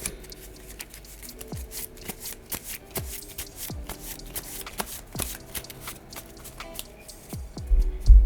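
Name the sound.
shuffling a deck of game cards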